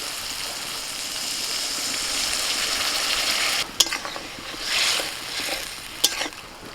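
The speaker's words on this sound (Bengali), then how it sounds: "লাউ ফুটছে" A pot of bottle gourd curry boils with a steady bubbling hiss, broken near the end by a couple of sharp clinks of a utensil.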